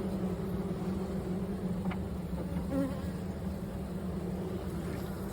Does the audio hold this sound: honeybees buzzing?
yes